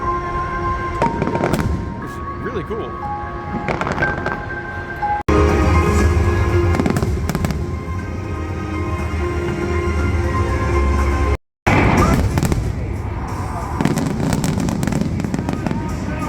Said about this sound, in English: after the game, they do a drone and fireworks show